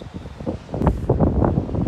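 Strong, cold gusty wind buffeting close by outdoors in Malta, a rough continuous rumble that swells and rolls without pause.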